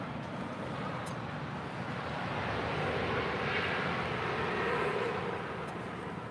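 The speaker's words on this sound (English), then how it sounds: "This departure is Alaska 220 departing to Puerto Vallarta on a 737-900ER" Alaska Airlines Boeing 737-900ER departing LAX for Puerto Vallarta, a dense continuous jet engine roar holding steady and building slightly, rich in rumble and hiss.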